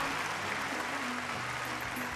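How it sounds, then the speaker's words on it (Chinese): A studio audience at a televised dating show claps briefly and fairly faintly, a soft even patter of applause with some background murmur. "来，掌声鼓励一下啊"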